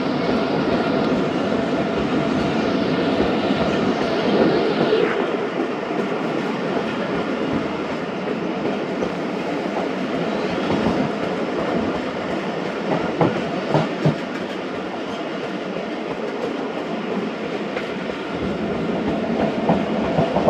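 The Allama Iqbal Express passenger train passes close by in Pakistan, a sustained loud rumble with rhythmic clickety-clack of wheels over rail joints and faint metallic squeals, continuing steadily for about twenty seconds with no voices.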